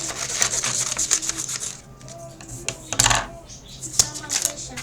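Scissors snip through paper, cutting it into squares for making a Squid Game ddakji tile: a close run of crisp, irregular cuts and rustles, with a brief voice in the background.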